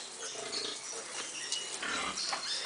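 Pigs on a pig farm grunt and squeal in a steady, busy chorus close by, with no talk over the continuous animal noise.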